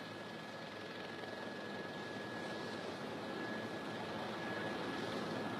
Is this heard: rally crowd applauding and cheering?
no